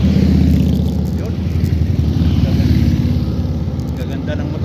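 Big motorcycles pass by Habermannsee lake near Berlin, a loud, steady engine roar with rising and falling revs, close to the listener, while people talk nearby.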